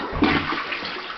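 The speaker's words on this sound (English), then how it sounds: "Yeah, toilet. Want to see it flush?" Close by in a bathroom, a Chinese-made toilet flushes with a steady rush of water that keeps going through the short clip.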